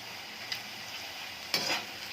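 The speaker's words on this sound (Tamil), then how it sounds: "இது அப்படியே மெதுவாக பொரியுது" Food frying slowly in a pan with mayonnaise, a steady soft sizzle and crackle throughout, with a couple of brief louder spits from the oil.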